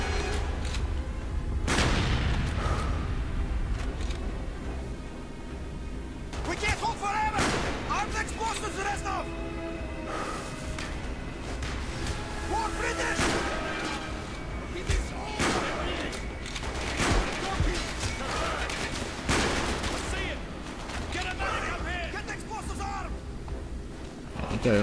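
Heavy gunfire and booming blasts in the Call of Duty: Black Ops campaign, with dense repeated shots and impacts across the whole stretch, loud and close, under talking voices.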